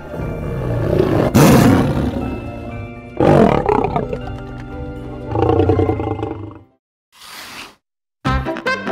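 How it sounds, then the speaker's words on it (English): A tiger roars loudly and close several times in deep, growling bursts separated by brief pauses, with no speech. "Tiger."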